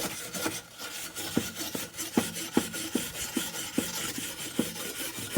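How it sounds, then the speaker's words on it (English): Wire brush scrubbing metal grill grates outdoors, a steady run of rhythmic scraping strokes about twice a second, close and clear with no talking. "just give these grates a brush down."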